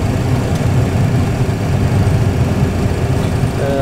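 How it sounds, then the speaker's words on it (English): Boeing 737 engines spooling to takeoff thrust, heard as a steady, loud, continuous low roar with broadband rumble throughout, no voices. "Set takeoff thrust. Setting thrust. Okay, thrust set."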